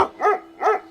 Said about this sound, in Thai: ผมได้ยินเสียงหมาเห่า